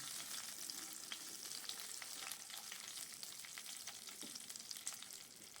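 Black cumin seeds and four slit green chilies sizzle in hot oil as a tempering for a rohu fish curry, a faint, steady crackling hiss with light stirring, heard close and alone.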